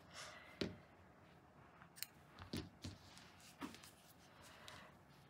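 A few sharp snips of scissors cutting crochet yarn, spaced irregularly, close and fairly quiet against a faint background hiss.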